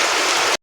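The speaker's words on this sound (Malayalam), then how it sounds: "നല്ല മഴയാണ്, അതുകൊണ്ട് സൗണ്ടിനൊക്കെ ബുദ്ധിമുട്ടുണ്ടാവും" Heavy rain pours in a dense, steady hiss, loud and close, then cuts off abruptly.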